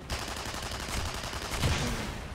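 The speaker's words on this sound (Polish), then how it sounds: "Na pewno strzały mam za głośno." Rapid bursts of gunfire crackle continuously through a dense, noisy Tribes Ascend game soundscape, with a heavier thump near the end; no one speaks.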